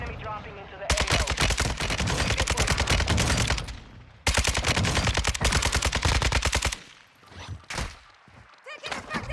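Heavy automatic gunfire from an RPK in Warzone 2 rips out in two long sustained bursts, loud and close, followed by scattered shots and thumps.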